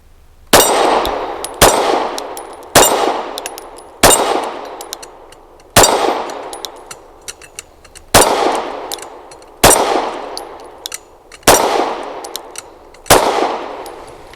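A SAR 9C Gen 3 pistol fired at a shooting range: nine loud, sharp single shots spaced about one to two seconds apart, each ringing out with a short echoing decay.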